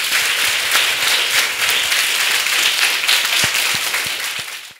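An audience at a French professional coaching event bursts into loud, dense applause, sustained clapping that fills the room for several seconds with a few sharper individual claps near the end.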